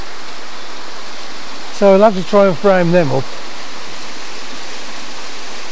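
A small waterfall at Waterbreaker's Neck, running with little water, gives a steady, even rushing wash. Someone speaks briefly over it midway.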